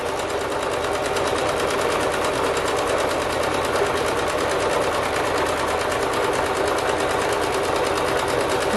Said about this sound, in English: I'm gonna go ahead and do a zigzag stitch